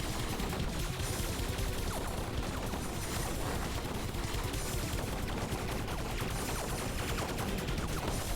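Rapid, dense cannon fire from a 160 cannon in the space shooter Fission Superstar X, a continuous loud barrage of overlapping blasts with no pauses.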